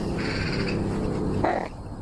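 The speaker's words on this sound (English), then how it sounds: "you can hear that bird making noise" A bird calling in the video game Crimson Desert, two harsh, nasal cawing calls, the first longer and the second short, heard close over a steady low ambient background.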